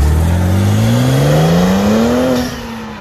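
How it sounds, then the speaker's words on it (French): Heard from outside, a turbocharged car engine revs hard in a loud, close, rising roar, then the throttle lifts and the sound drops away as the dump valve releases. "Et le bruit du turbo, c'est ultra violent par contre."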